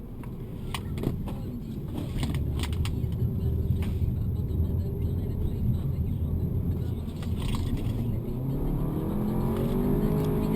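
SEAT Leon Cupra ST 280 with a DSG gearbox driving steadily through a roundabout, a continuous engine and road drone heard from inside the cabin with faint mechanical clicks above it.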